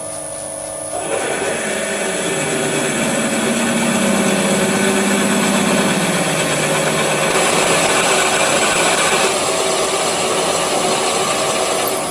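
A power drill with a 12mm bit runs steadily and loudly for several seconds, its whine shifting slightly in pitch as the bit bores through material.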